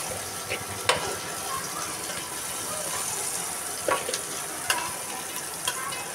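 Chopped greens with small radishes fry in a pan, making a steady, soft sizzle with a few sharp clinks and scrapes as the food is stirred.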